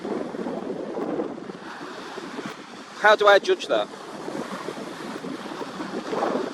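Sea waves wash in steadily close by, with wind buffeting the microphone, and someone speaks over the surf for a moment.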